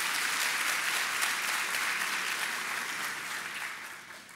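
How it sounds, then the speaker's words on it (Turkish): Sustained applause from an audience at a seminar on electronic ledger and document applications, a steady dense wash of clapping that fades slightly toward the end with no voices over it. "Bir alkış rica ediyorum."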